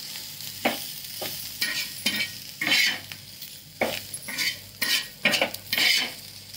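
Spoon stirring lemon juice into grated bitter gourd in a pan, a run of short scraping, clinking strokes with soft sizzle between them, close and fairly quiet, no voices.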